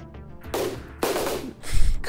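Gunfire in RimWorld, two loud bursts of rapid shots a half second apart, followed by a heavier thumping impact, all close and without talk.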